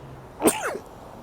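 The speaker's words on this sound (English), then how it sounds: "That was a sneeze." A single short, sharp human sneeze, close and fairly loud, with quiet background before and after.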